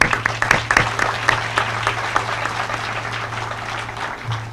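Sustained applause from an audience at an evening community lighting ceremony, dense steady clapping at moderate distance, with a low steady hum running underneath.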